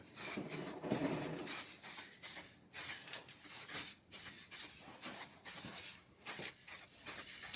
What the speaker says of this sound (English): Spraying some aluminum primer here.